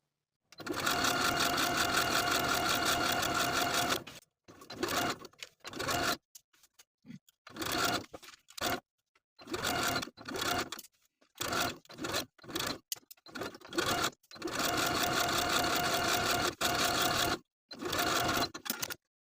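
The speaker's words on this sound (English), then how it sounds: "Continuing to edge stitch all around the neckline, and then all the way down to the bottom of the opposite tie." A sewing machine edge-stitches bias binding around the neckline of a sleeveless top, running in long steady whirring bursts broken by short pauses and stop-start stitching, loud and close.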